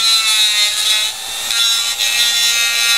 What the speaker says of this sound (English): Nice clean grinding wheel now. So we grind it down.